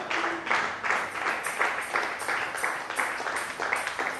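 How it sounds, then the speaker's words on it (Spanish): A church congregation claps for the Lord during a Spanish-language sermon. The clapping is a steady, fairly loud patter of many hands that lasts the whole stretch, with no talking over it. "Denle palmas al Señor si usted lo cree."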